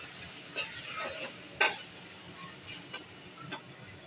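Prawn brains frying in oil in a home kitchen, a soft steady sizzle with a few sharp clinks and taps of a utensil against the pan scattered throughout, fairly quiet and close.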